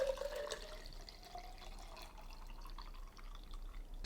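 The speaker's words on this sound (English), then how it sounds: "And then I'll fill it up with cold water." Cold water pours into a container of loose sencha tea leaves, a short liquid splash and trickle that fades into quiet dripping, with no talk.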